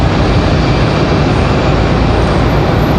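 A loud, close, steady roar of an American Airlines jet airliner at Raleigh-Durham International Airport, a continuous broadband rumble with no break.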